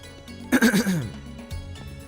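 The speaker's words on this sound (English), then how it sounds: "I need to clear my throat, sorry, hold on." A man clears his throat once, a short rough rasping burst lasting about half a second. Speech before and after is quiet and low.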